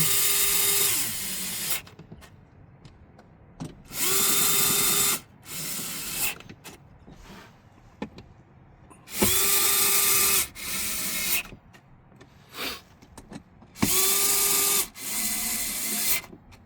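A Snap-On Nano cordless access driver runs screws in, giving repeated loud whirring bursts of a second or two each, several in a row with short pauses between, the motor pitch shifting as each screw seats.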